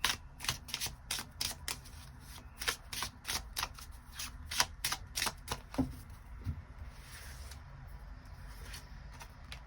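Tarot cards shuffled and drawn by hand in a run of quick, crisp riffling flicks, close and fairly quiet, steady for most of the stretch before thinning into a few scattered slaps.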